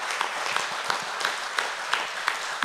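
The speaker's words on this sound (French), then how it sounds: "Mais des grands applaudissements pour Priscilla" An audience at a public meeting on rural mobility in the Basque Country claps, a moderate, fairly distant wash of applause with a few sharper individual claps standing out.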